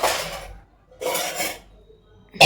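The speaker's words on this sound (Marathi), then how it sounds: "आधीची भांडी आहे याच्यामध्ये ते मी लावून ठेवणार." Washed dishes and pots are set away in a home kitchen, two close bursts of metal clattering and clinking, each about half a second, separated by quiet, ending with a sharp knock.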